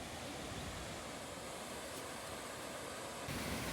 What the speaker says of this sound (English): Waterfall number 1.